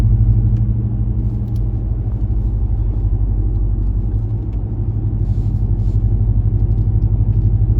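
A Ram Rebel pickup idles in MDS cylinder-deactivation mode with its muffler and resonator deleted, giving a deep, loud, continuous rumbling drone with a fine rapid pulse and no talking.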